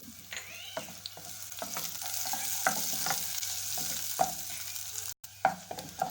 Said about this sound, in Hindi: देखिए प्याज हमारी सौते हो गई।